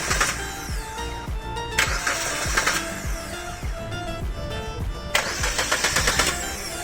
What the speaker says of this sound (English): Crank the engine at 3 times.